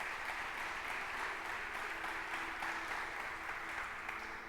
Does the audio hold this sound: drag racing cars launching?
no